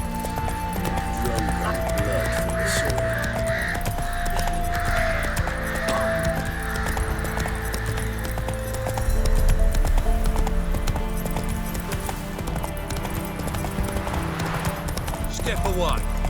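A horse gallops in The Witcher 3 video game, with a steady, rapid clip-clop of hooves that runs the whole time beneath spoken dialogue and game music.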